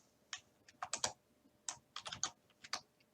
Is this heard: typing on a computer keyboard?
yes